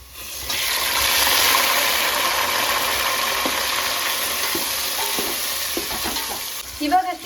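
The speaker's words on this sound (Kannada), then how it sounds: "ಇದರೊಳಗಡೆ ನಾನು ಇದೇ ಟೈಮಲ್ಲಿ ಟೊಮೆಟೊನ ಹಾಕೊಳ್ತೀನಿ" Chopped tomatoes hit browned onions in a hot pan for chicken biryani, a loud, continuous sizzle and frying hiss with occasional stirring scrapes near the end.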